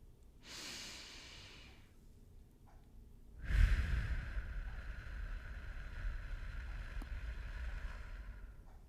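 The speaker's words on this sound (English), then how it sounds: "Why don't we go ahead and take a breath together?" Slow breaths drawn in and let out, a soft inhale early on and then a louder, longer exhale that trails off, close and alone without talk.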